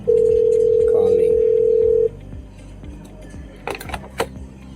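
A Grandstream GXP1610 IP phone dialing an extension: a loud steady dial tone for about two seconds, then quieter ringback-style tones with faint clicks from handling, alone without talk.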